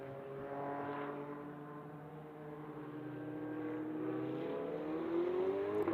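A GT4 race car runs down the long back straight at MotorLand Aragon, its engine note climbing steadily as it accelerates, growing louder as it nears, with no voices over it.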